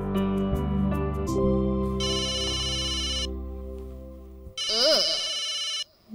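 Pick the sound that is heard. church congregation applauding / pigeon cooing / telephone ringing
telephone ringing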